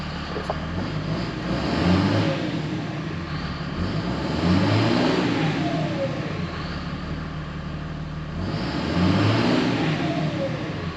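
A truck engine revs repeatedly while driving down the road, rising and falling in about three loud swells of acceleration, close up and steady underneath, with no voices.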